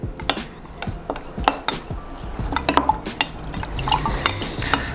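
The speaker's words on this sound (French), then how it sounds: "Tac, et là on touille." A spoon stirs water, dry yeast and honey in a bowl for Neapolitan pizza dough, giving close, irregular clinks and scrapes against the container with no talking.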